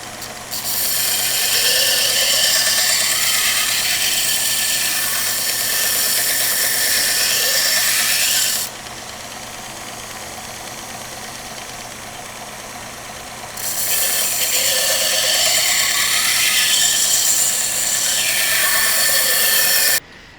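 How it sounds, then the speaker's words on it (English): A power tool grinds loudly and steadily against the underside of a thin metal clay-carving knife blade. A quieter stretch in the middle is flanked by two harsh, bright grinding passes. "I'm going to sharpen the underside of the blade here."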